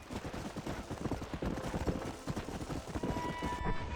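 Unsaddled horse walking in Red Dead Redemption, hooves clopping in a steady, fairly loud rhythm over a busy game soundscape.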